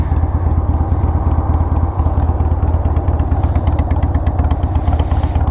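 A Harley-Davidson 883 Hugger motorcycle engine idles steadily nearby, a little over 1,000 rpm, with a rapid, uneven lumpy pulse and low rumble, no voices.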